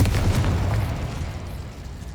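A Confringo explosive spell cast in the video game Hogwarts Legacy, a dull low boom with a rumbling roar that lingers steadily for about two seconds.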